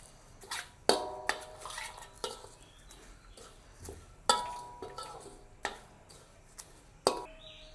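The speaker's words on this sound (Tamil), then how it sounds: "அப்படியே சேர்த்து கிண்டிக் கொள்ளுவோம்." Utensil repeatedly scraping and clinking against a cooking pot while squid is fried with curry leaves, sharp metallic knocks at an irregular rhythm over a quiet kitchen background, no talking.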